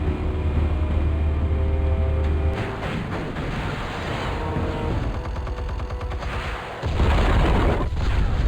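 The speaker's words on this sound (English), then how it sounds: "Explosives armed. Fire when ready." Explosives detonating in the Batman Telltale video game: heavy booms and crackling blasts, with a loud low rumble at the start, dense debris and gunfire-like bursts through the middle, then another deep blast near the end.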